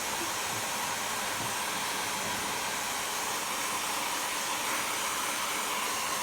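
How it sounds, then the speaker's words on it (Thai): A hair dryer blows hot air steadily on hair at close range, a loud continuous whooshing roar that holds at an even level throughout with no voices. "ได้เป่าผมร้อนเหมือนกันนะครับ"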